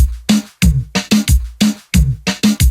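A reggaeton drum loop at 90 BPM plays loud and alone, with punchy kicks and snappy snare hits repeating in a tight, syncopated dembow rhythm.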